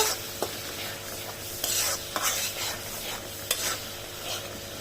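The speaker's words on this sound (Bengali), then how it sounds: "এখন সবগুলো উপকরণ ভালো করে নেড়ে চেড়ে মিশিয়ে নিব।" Garam masala and spices fry in a pan for aloo dum, a steady sizzle broken by several scraping stirs and light clinks of the spatula, close and clear with no voices.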